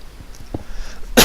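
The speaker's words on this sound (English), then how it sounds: "Coughing." A single short, sharp burst at the very end, loud and close, after a quiet stretch with a few faint thumps.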